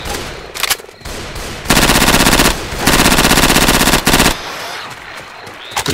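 Shotgun fire in the Left 4 Dead 2 video game, loud blasts in clustered bursts with a reload and short gaps between them.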